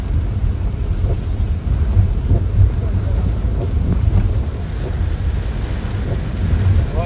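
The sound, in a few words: heavy rain with thunder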